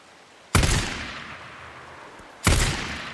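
Two loud, separate gunshots from Days Gone boom about two seconds apart, each with a long fading echo, with no talking between them.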